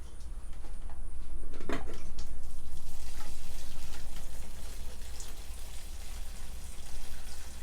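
Steady stream of water pouring onto pepper seed starting trays, a continuous close splashing wash with a brief louder gush early on, no voices.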